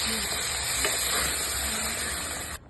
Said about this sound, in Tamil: பழத்தையும் ரவையும் நல்லா வறுத்து ஃபுல்லுமே பால் வர செய்யணும்.